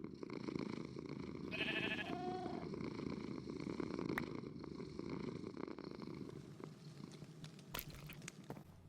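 A cat purrs softly and steadily in the Minecraft video game, a faint low rumbling hum with a short higher game chirp early on and a few quiet clicks, no speech.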